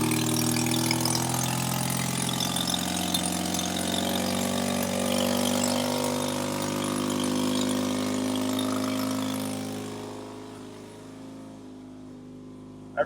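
A Mazda Eunos Cosmo's rebuilt, street-ported 13B rotary engine idles with a steady, rough low rumble and hum, then winds down and cuts off near the end, leaving near silence.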